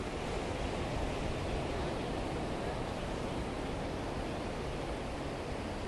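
Small ocean waves wash steadily onto the shore at sunset, a continuous broadband rush of surf close by with no distinct breaks and no talking.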